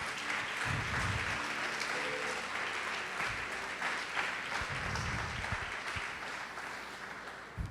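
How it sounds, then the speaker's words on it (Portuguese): Worshippers in a church burst into sustained applause to glorify Jesus, a dense wash of clapping from a large congregation that carries on evenly for about eight seconds. "Pode aplaudir, glorificar o Senhor Jesus."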